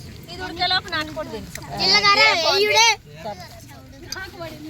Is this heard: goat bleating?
yes